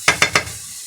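Onions hitting hot oil in a pan, three quick loud sizzling bursts in a row, close by, trailing off into a faint hiss.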